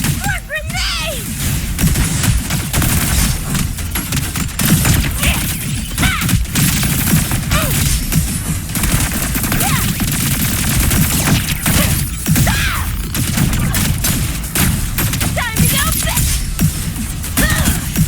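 Grenade blasts and gunfire from the Wuthering Waves video game crash in dense, loud bursts throughout, with voice exclamations mixed in between the impacts.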